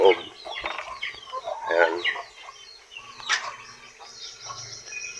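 Plymouth Rock chickens cluck and murmur nearby inside a coop, irregular soft calls with one sharper squawk, while someone speaks briefly over them.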